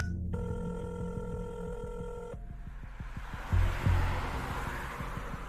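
A telephone rings in a dramatized story, a steady electronic ringtone with regular repeating pulses over a low rumbling background, fairly close and clear and without any speech.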